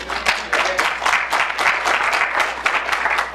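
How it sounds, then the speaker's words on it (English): An audience at a keynote speech applauds, dense steady clapping from many hands that stays even and fairly loud throughout, with no voice over it. "You ought to clap your hands for that."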